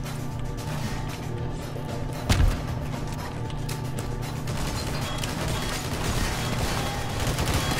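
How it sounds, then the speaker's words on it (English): Gunfire in a video game at a mining outpost, a dense, continuous barrage of shots with one sharper impact standing out amid the steady din of battle. "we're taking heavy fire"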